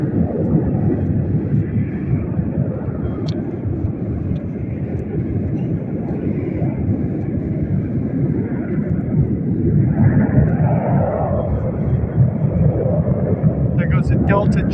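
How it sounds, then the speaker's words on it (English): Delta jet airplane passing overhead above the Las Vegas Strip, a loud continuous low roar that holds steady and shifts slightly in tone, with a person talking over it. "A Delta jet."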